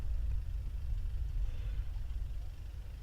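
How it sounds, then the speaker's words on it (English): Lorries and trucks rolling in to load ceremonial gun salute cannons, a steady low engine rumble from vehicles at a distance, continuous and fairly faint throughout. "Bringing in the trucks, the lorries,"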